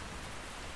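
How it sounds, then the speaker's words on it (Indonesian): Steady, even rain in the video game ASA Eerie, a dense hiss with no distinct drops, constant and fairly quiet throughout the brief moment with no talk over it. "Hujan guys, hujan."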